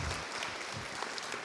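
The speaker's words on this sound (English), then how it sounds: "Yes, a hand of applause for Owen, everybody." Applause from an evening audience at the Norval Foundation, greeting a new director: steady, dense clapping that continues across the whole moment without letting up, fairly distant and somewhat muffled.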